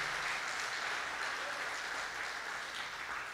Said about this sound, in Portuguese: Uma salva de palmas, mulheres.